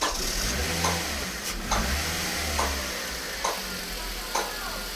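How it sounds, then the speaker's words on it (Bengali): Steady low hum of a 2013 Toyota Hiace or Noah microbus engine idling smoothly, with faint regular clicks and a hissing background. "খুবই সুন্দর একটা ইঞ্জিন এবং স্মুথ সাউন্ড"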